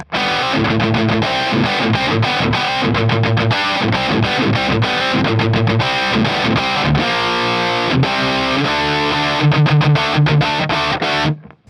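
Heavily distorted electric guitar through a Diezel VH4 tube amp on channel 3, chugging palm-muted riffs and ringing chords, loud and close, ending abruptly.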